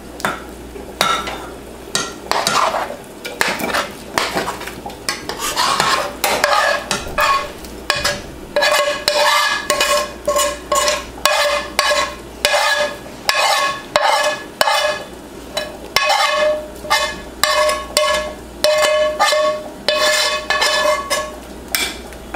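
Oatmeal is stirred and scraped in a frying pan, then transferred out, with steady, close, rhythmic utensil strokes against the pan that repeat throughout and no talking.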